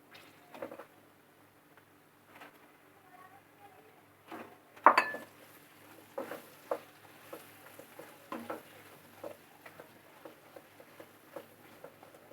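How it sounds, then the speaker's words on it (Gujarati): Chilies, chili powder and onion are stirred in a pan, with scattered scraping and clinking of a utensil against metal over a soft background, some strokes sharper and louder than others. "બરાબર હલાવી દઈશું."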